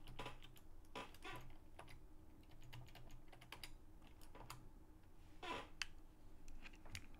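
Keys on a computer keyboard are tapped while entering settings for an Amiga bowling game, producing scattered close clicks in uneven bursts, soft overall, with a sharper cluster of strikes near the end.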